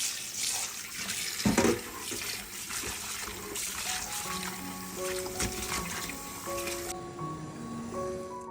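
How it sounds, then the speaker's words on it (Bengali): Tap water runs and splashes steadily into a kitchen sink as raw shrimp are rinsed by hand, a close, continuous gushing trickle with faint clinks from dishes toward the end. "চিংড়ি মাছটাও ভালোভাবে ধুয়ে নিচ্ছি।"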